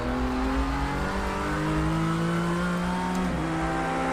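Radical RXC race car in Project CARS 2 holds a loud, steady engine drone with a sustained high-revving tone, a brief shift dip near the end, and no talking.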